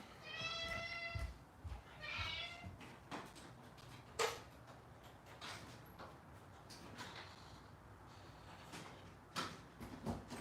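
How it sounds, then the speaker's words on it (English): A pet cat meows and a door or latch clicks as it is let out of a quiet room, with soft scattered ticks and knocks and faint talk in the background. "I'm going to let Mr. Kitty out"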